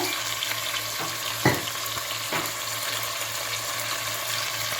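Free-range country chicken sizzles and crackles steadily in hot oil with turmeric and salt, with a few scraping stirs of a utensil in the pan.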